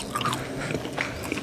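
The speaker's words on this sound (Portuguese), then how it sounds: "Vocês ouviram o crocante desses chips de parmesão?" Crisp parmesan chips are bitten and chewed close up, a run of several sharp, crackly crunches in quick succession with no speech.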